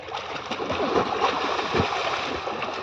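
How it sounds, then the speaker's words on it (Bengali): A child learning to swim splashes in water with irregular close splatters and gurgles, while faint voices can be heard around. "সাঁতার দাও, পা উঠায় সাঁতার দাও"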